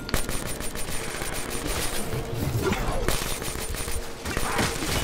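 Rapid gunfire in a Black Ops 3 Zombies match: dense automatic bursts fill nearly the whole stretch, loud and close, with a voice chiming in faintly underneath.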